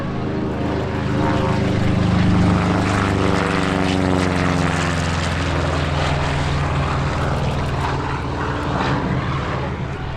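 P-47D Thunderbolt warbird flying at an airshow, its big radial piston engine and propeller giving a loud, steady, throbbing drone that swells as it passes and then slowly fades.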